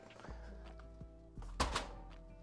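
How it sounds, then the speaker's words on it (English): A bag dropped onto the floor gives a dull, low thud near the middle, among a few softer knocks and bumps in an otherwise quiet room. "That thud was the bag being dropped on the floor"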